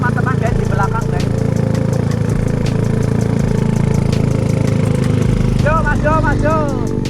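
A motorcycle engine runs steadily at a low rumbling idle during a cold-weather test ride, close and continuous, with short chirping sounds near the start and end.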